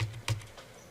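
Two quick keystrokes on a computer keyboard while entering a value in Rhino, close and crisp with a brief pause between taps and no talk.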